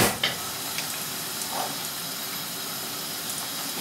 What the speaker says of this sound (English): We've just warmed up the oil, and hopefully if the oil is at the right temperature, they shouldn't soak up a lot of the oil.